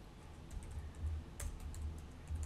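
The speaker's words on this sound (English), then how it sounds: "I'm going to type out my next word" Quick, fairly quiet clicking of keys on a computer keyboard, typed in short bursts over a few seconds with no talking.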